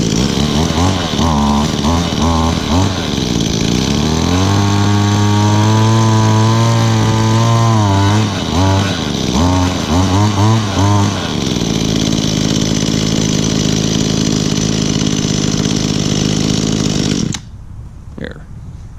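An Echo chainsaw with a carburetor needing adjustment, running loud and close, its engine revving up and down unevenly before settling to a steady drone and cutting off abruptly near the end.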